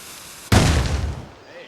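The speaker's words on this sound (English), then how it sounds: "Grenade! Grenade!" A grenade detonates in the video game Assassin's Creed Rogue: one sudden, loud, close blast after a quiet moment, with a rough rumbling tail that fades within a second.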